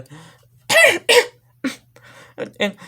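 A voice coughs several times in short, uneven bursts, close and fairly loud, with a quiet hum underneath.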